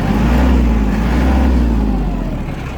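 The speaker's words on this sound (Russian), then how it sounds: "Думаю, прекрасно слышно, как трактор работает" A Hinomoto NX220 tractor engine runs close by with a loud, steady low rumble and an even, smooth tone that holds throughout and eases slightly at the end.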